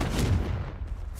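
A Confringo blasting spell explodes in Hogwarts Legacy as one loud, booming burst with a rumbling low end. It fades quickly over about a second.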